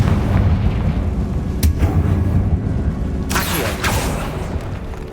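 A Confringo blasting spell explodes in Hogwarts Legacy, heard as a deep rumbling boom over steady low game ambience, followed by a sharp crack and a broader burst of blast noise near the end.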